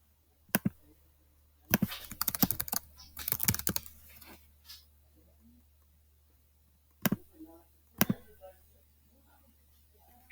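Keys on a computer keyboard are tapped to enter a calculation: a few isolated clicks, then a quick burst of clustered typing, then two more separate taps, close and clear in a quiet room.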